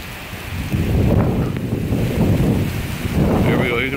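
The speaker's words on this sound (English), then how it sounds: "Here comes another gust." Hurricane wind gusts roar and buffet the microphone during a storm in Clermont, Florida, a loud, continuous rush that swells and eases, with a faint voice under the noise.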